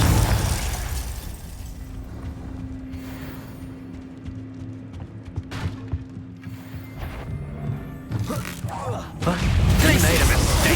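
Confringo fire-spell blasts in Hogwarts Legacy combat, heavy booming bursts near the start and again toward the end over a steady mechanical game din, with spoken voices mixed in.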